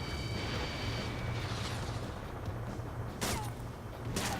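Missiles launch and explode in the combat flight game Ace Combat 7, set over a rescue mission against SAM sites. Steady roaring engine noise is broken by two sharp, bright bursts near the end.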